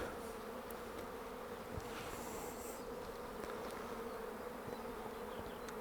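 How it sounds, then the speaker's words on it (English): Calm homebred, open-mated honey bees hum steadily around an open hive during an inspection, a close, continuous buzz with no talking. "The bees are really calm."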